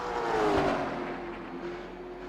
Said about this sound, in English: You really hear him feathering the throttle going through that corner